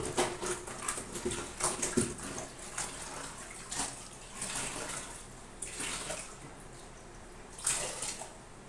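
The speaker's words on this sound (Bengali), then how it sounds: "মপটা ধুয়ে নিই।" A mop is rinsed in water, likely in a mop bucket indoors, giving repeated close splashes and sloshing surges at an uneven rhythm, without talk.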